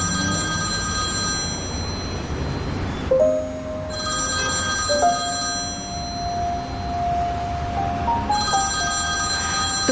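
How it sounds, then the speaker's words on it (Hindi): A telephone rings in repeated bursts, loud and close, with a sustained tone sliding between pitches in the quieter stretches. "तुम फोन उठा सकते हो,"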